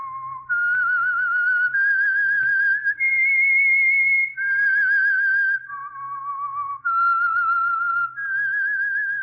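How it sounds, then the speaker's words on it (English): A solo whistled theme tune from The Whistler, an old-time radio mystery show. The bright melody is loud and close, with long sustained notes rising and falling in steady phrases and no talking. "That whistle is your signal for the Signal Oil Program, The Whistler."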